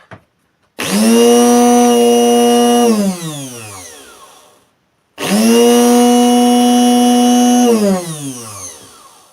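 Repaired ORION ORB-012 blender motor runs in two loud bursts, each a steady high whine lasting a few seconds before spinning down, separated by a brief silence.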